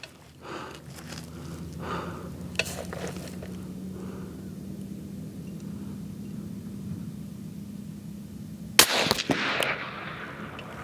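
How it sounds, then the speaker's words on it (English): A single sharp rifle shot from a Ruger Precision Rifle near the end, loud and close, after a stretch of low outdoor rumble with a few faint clicks. "This is like a cold bore shot, sort of."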